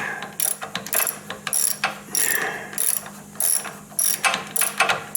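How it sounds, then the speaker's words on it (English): Ratchet clicking in repeated bursts while a screw is backed out during gas tank removal on a 2009 Harley-Davidson motorcycle; close, crisp pawl clicks in quick strokes with short pauses between, no talking. "Taking the screw out there."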